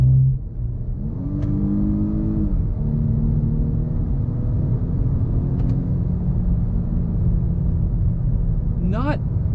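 2021 Volvo S60 T5 Inscription accelerating on the road, heard from inside the cabin as a steady engine rumble with rising and shifting revs, followed by a brief higher whir near the end.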